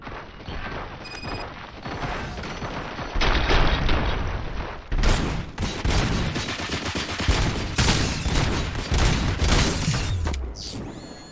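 Sustained gunfire erupts in the RoboCop Rogue City video game on PS5, with rapid, dense volleys and heavy bursts rolling loudly and continuously, briefly pausing before resuming through to the end.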